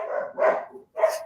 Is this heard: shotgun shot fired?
no